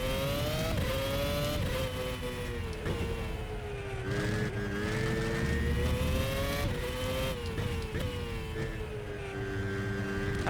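A race car engine in the rFactor racing game revs high and steady, with a brief dip in drive at each gear shift, loud and continuous throughout.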